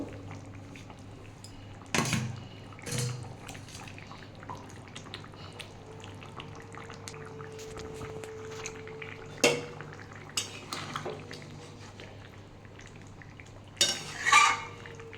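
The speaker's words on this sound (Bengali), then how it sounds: "আমি এবার এর মধ্যে মাছগুলো দিয়ে দেবো" Katla fish pieces dropped into a pot of boiled potato curry with drumsticks and pointed gourd, a few clattering splashes and metal utensil knocks, then quiet simmering with occasional scrapes.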